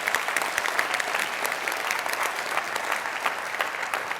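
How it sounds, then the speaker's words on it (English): An audience gives a dense, lively round of applause for the finalists at a startup pitch event, many hands clapping steadily throughout at close range. "Give us one last round of applause for all 3 of the finalists tonight."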